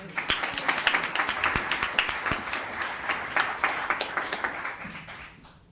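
A round of applause at a town council meeting, a small group clapping in brisk, distinct claps that thin out and fade after a few seconds.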